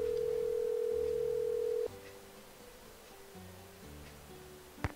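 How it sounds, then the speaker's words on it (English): Steady telephone dial tone in the Nancy Drew game Curse of Blackmoor Manor, loud and continuous for nearly two seconds before cutting off, followed by a quieter, faint ringing pattern on the line. "Let's make some phone calls because I need to kill time"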